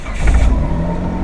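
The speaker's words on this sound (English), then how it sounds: "I'll start the vehicle." A car engine turns over and catches, settling into a low, steady idle, up close and loud, during a brake-bleeding job.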